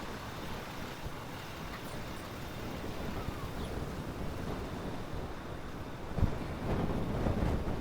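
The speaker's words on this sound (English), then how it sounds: "And it is quite windy." Steady wind rushing and buffeting outdoors on a downtown Toronto street, a broad continuous roar with occasional gusts and no one talking.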